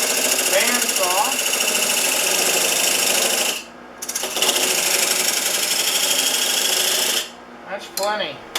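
Wood lathe spinning while a tool cuts a groove in a segmented turning, a buzzing, scraping cut in two long bursts separated by brief pauses, with a voice between them.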